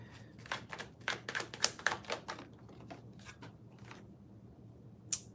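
Tarot cards being shuffled and drawn from a deck, a quick run of soft papery flicks and taps close by, then a pause and one last faint snap of a card, with no talking.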